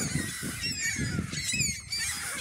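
Seagulls outside a shopping mall give repeated loud, nasal, honking calls, several overlapping cries in quick succession, close by and continuous over outdoor background noise.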